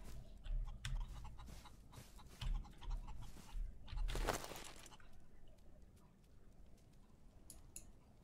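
Chickens in Outlaws of the Old West clucking close by in a run of short, repeated bursts, with a louder rasping squawk midway, then quieter scattered clucks, no talk.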